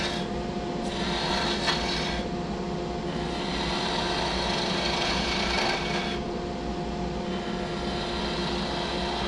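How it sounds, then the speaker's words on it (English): Skew chisel scoring a cove into spinning wood on a lathe, a steady close rasping and scraping hiss that swells and eases in bursts over a continuous motor hum, with no voices. "I'm going to score at a couple different spots so the shavings have a chance to chip off"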